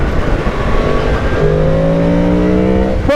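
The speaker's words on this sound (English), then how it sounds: "the sound from the CP4 cross-plane crank engine" Yamaha MT-10 motorcycle with a CP4 cross-plane crank engine revving hard, loud and close, its engine note climbing and then holding a high rising tone.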